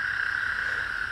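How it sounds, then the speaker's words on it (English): A dense, continuous chorus of Texas toads trilling together, loud and unbroken, with no other sounds. "listen to the toads."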